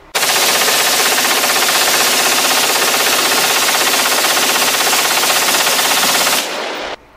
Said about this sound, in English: Now here's one with a 100-round magazine with the AR-15 in a test fire.